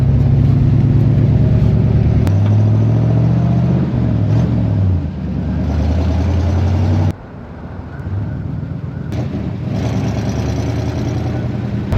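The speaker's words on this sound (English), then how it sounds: "This old car really does have a tremendous amount of pickup." An old Studebaker car engine accelerates hard, loud and close, with rising engine tones through several gear changes, then a brief drop in power around the midpoint before it pulls strongly again.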